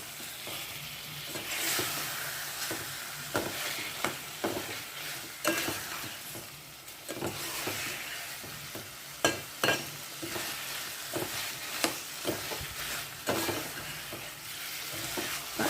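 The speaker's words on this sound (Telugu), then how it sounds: "చికెన్ వేసేటప్పుడు కొంచెం హై ఫ్లేమ్ పెట్టుకొని ధన ధన వేయించుకోవాలండి" Chicken pieces fry on high flame in a pan with a loud, continuous sizzle, while a spatula scrapes and clanks against the metal again and again in an uneven rhythm.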